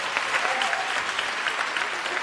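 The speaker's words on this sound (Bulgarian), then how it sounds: "Аплодисменти." A comedy show audience breaks into continuous applause, a thick wash of many hands clapping at moderate volume, with no voices rising above it for the whole short stretch.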